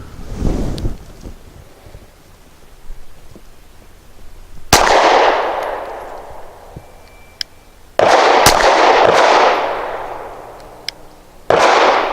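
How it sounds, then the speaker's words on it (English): Three sharp pistol shots from an original S&W Shield 2.0 firing Blazer Brass bulk ammunition, each a loud crack followed by a long outdoor echo, spaced about three to four seconds apart. "Using just blazer brass, bulk ammunition, I'll shoot at the right middle target."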